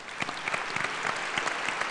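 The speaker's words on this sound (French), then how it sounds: "Merci Romain, vous pouvez l'applaudir." A short burst of audience applause at a talk, individual claps audible in a brisk, fairly quiet patter that fills the hall.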